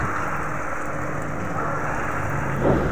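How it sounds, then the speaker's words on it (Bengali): Heavy rain pours down in Kolkata as a steady, even rushing hiss throughout, with no voices and no clear breaks. "আমাদের এই কলকাতায় আজকে ভালোই বৃষ্টি হচ্ছে,"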